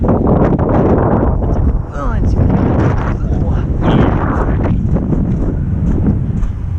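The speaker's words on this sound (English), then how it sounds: "The wind's picking up so much" Strong wind gusts across the microphone on a coastal beach hike along a rocky point, a steady, loud, blustery roar that persists for the whole stretch with no clear voices.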